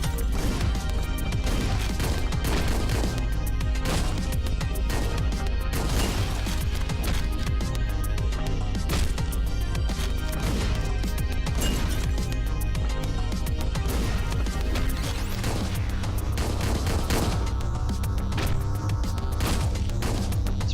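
Shotgun blasts and crashing impacts in the top-down action game Hotline Miami 2, on hard difficulty. They hit hard and often under loud, constant game music that never lets up.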